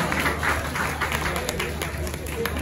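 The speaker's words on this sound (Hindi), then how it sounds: "तालियां बजा दीजिएगा, बच्चा खुश हो जाए।" Audience applause at a mushaira poetry gathering, a dense burst of clapping from a crowd that holds steady for a couple of seconds with a faint murmur underneath.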